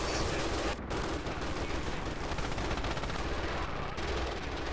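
MG 42 machine gun in a World War II event game, firing continuous rapid loud bursts with only brief pauses, harsh and close, with no voices.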